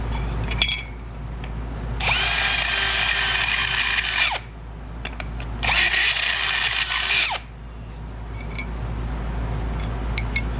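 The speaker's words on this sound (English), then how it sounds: "we're going to countersink these two holes" A power drill fitted with a countersink bit countersinks two holes in an astromech droid ankle part for M6 screws, two loud whining bursts of about two seconds each separated by a quiet pause.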